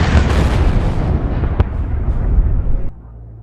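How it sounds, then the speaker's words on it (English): Heavy aerial bombs strike a war-torn village, a dense rolling roar of blasts with one sharp crack midway, loud and close, dropping off abruptly near the end. "aircraft streak across the village, climbing and diving as they release heavy bombs. Each impact sends shockwaves through streets"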